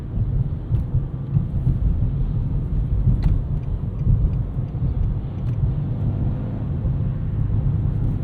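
A 2024 Nissan Versa with a 5-speed manual gearbox cruising along, giving a steady low road and engine rumble with tire noise and no one speaking.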